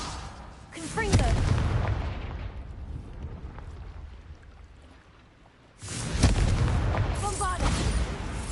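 Confringo fire spells in Hogwarts Legacy bursting in loud booming blasts, one heavy burst near the start and another around six seconds, with rumbling decay and a dimmer stretch between.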